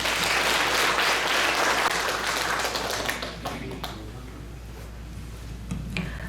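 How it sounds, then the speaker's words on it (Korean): Audience applause in a church hall welcoming a Korean missionary nun who cares for children in Cochabamba, Bolivia; dense, loud clapping for about three seconds, then thinning to scattered claps before fading. "여러분 뜨거운 박수로 환영해 주십시오."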